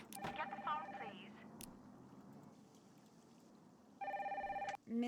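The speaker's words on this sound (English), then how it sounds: "Get the phone, please." In the Nancy Drew: Danger By Design game, an electronic telephone trills in short repeated bursts near the start and again near the end, with quiet room ambience between.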